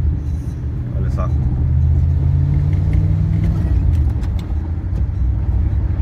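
Ford Landau accelerating beneath a viaduct, a loud low engine rumble swelling and holding steady, with road noise around it and speech over the top.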